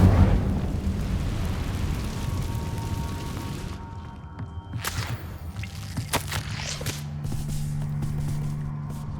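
A fire spell cast in Hogwarts Legacy gives a broad roaring whoosh that fades, followed by several sharp crackling snaps and then a low lingering hum, with no voices.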